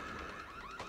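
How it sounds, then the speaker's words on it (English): Door alarm in the zombie shooter Back 4 Blood, a loud warbling electronic siren filling the whole second, rising and falling in pitch. "Einstein activated another door alarm, huh?"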